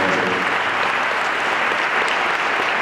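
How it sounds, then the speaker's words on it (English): Audience applause after a Freedom from Chemical Dependency presentation at a high school, a dense, loud wash of clapping filling the whole moment without pause. "Let's give Tim another round of applause."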